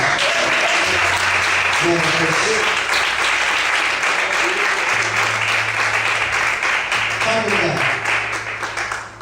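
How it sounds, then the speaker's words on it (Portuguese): Sustained applause from a large church congregation fills the space, a steady wash of clapping that continues loudly throughout and tapers only slightly at the end. "Você pode aplaudir o Senhor por isso?"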